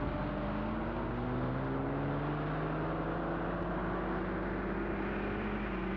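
A car drives along with a steady engine drone and road rumble, its tone rising slowly as it gathers speed, continuous and fairly close without pauses.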